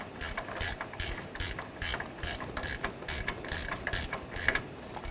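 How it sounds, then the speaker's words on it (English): An 18mm ratchet wrench tightens a nut on the front suspension of a 2014-2018 GMC Sierra 1500 pickup, a close, crisp run of about a dozen quick clicking bursts in steady rhythm. "Now we're going to use a pry bar, pry upper control arm down. See, 18mm ratchet wrench."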